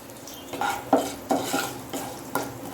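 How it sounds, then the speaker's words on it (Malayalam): Dried red chillies frying in a pan for poha, with a spoon scraping and stirring against the metal in a series of distinct knocks over a low background sizzle, close and fairly quiet. "അതിനകത്തോട്ട് നമുക്ക് 2 ചുവന്ന മുളക് ഇട്ട് കൊടുക്കാം. ചുവന്ന മുളക് ഒന്ന് ഫ്രൈ ആവാം."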